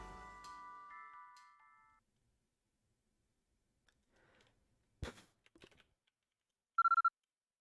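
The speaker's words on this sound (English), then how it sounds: "I think that was my phone's banking app." In the video game Sometimes Always Monsters, a phone banking app gives a short, bright notification chime of rapid repeated beeps, clear and alone near the end after soft clicks and typing-like taps.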